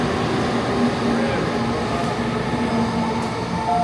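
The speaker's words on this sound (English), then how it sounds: "Look, we're about to take one of these bullet trains, bro. It goes fast as heck." Japanese bullet train running at speed, a continuous loud rushing rumble with faint metallic tones, as heard from on board, steady throughout the short stretch.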